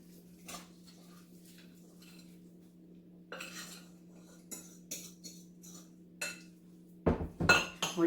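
Chocolate peanut butter protein bar mixture being put into a baking pan, with sparse clinks and scrapes of utensils against the pan and a louder cluster of knocks at the end over a steady low hum.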